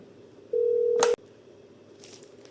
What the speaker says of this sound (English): I'm calling from this Wi-Fi phone to this IP phone, and you can see a call is coming.